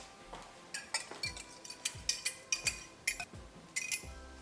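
Spoon scraping and clinking against a bowl while yogurt, black pepper, garam masala and other spices are stirred together, a series of sharp repeated taps in a quick uneven rhythm, close by with no talk.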